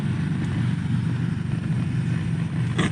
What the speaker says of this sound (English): I'm spoiled with how fast the jet boil boils up water.